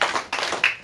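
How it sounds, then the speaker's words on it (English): A classroom of students clap twice in unison, two sharp, close claps about a third of a second apart, followed by a straggling third clap. "Clap twice if that makes sense to you."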